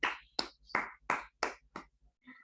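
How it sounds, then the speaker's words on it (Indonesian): Six sharp, evenly spaced claps echoing in a classroom as students applaud classmates, fairly quiet and not a full crowd, with a faint murmur at the end. "Mungkin beri aplaus kepada mereka."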